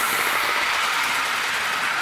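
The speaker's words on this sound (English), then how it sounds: "the Kickapoo Valley and Northern Engine haul some lumber" Model train engine of the Kickapoo Valley and Northern hauling lumber on a Wisconsin-themed layout, heard as a steady, continuous rolling rumble with no pauses or voices.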